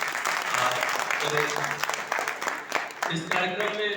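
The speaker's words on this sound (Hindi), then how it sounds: "मैं चाहता हूँ पूरा सदन जोरदार तालियां बजा के उनको" Loud applause from the audience at an all-India kavi sammelan and mushaira poetry gathering, continuous clapping under someone speaking into a microphone throughout.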